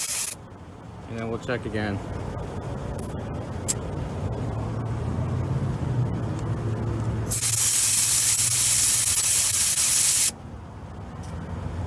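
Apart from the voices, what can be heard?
air hissing out while deflating Honda Odyssey tire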